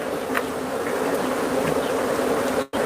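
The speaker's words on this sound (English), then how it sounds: "Look at all the bees in the windows." Swarm of honeybees buzzing against windows during beekeeping, a steady, dense, close drone that holds for nearly three seconds before cutting off abruptly.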